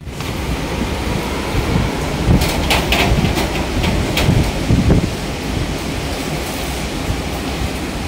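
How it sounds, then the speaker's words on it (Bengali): Rain and gusting wind from Cyclone Remal in Kolkata, heard at a main gate as a constant, dense rushing hiss with stronger gusts swelling through the middle. "আর বৃষ্টি তো কনস্ট্যান্ট হচ্ছেই, দেখো যদি হাওয়ার আওয়াজ তোমরা একটু শুনতে পাও"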